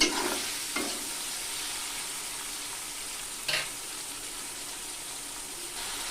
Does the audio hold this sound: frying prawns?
yes